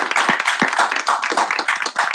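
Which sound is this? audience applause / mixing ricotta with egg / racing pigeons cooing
audience applause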